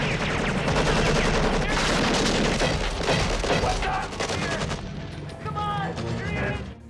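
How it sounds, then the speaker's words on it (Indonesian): Film gunfight between a soldier and a guerrilla: dense, loud bursts of rifle fire and booms fill the scene, easing later into scattered shots and ringing tones amid background action. "Miller pun segera mengambil senapannya sampai akhirnya terjadilah baku tembak."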